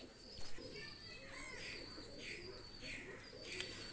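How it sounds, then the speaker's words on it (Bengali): Golden running pigeons kept for sale coo softly in a few low, repeated phrases, with a brief flutter of wings near the start and faint background noise; the birds sound quiet and somewhat distant. "স্কুলওয়ালা গোল্ডেন রানিং কবুতর"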